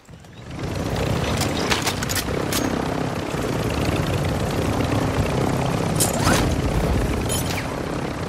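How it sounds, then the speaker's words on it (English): A helicopter in Call of Duty MW2 DMZ roars loud and close with a steady whirring drone that holds throughout. "Get on a heli."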